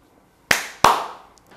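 Two sharp, close hand claps sound in quick succession after a short silence, made by one person recording narration with a teleprompter in a quiet room.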